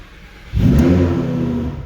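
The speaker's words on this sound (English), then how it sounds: "So I'm going to start the car" A Lamborghini Huracan with an IGLA pin-code anti-theft immobilizer starts: near-silence, then the engine catches with a loud starter whir and flare of revs before settling into a steady, loud idle.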